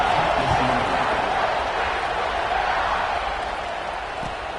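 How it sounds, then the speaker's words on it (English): Football stadium crowd at a USC game in the fourth quarter, buzzing after a score ahead of a kickoff; a dense, steady roar of many voices fills the clip and fades slightly toward the end. "this crowd is buzzing after that last score"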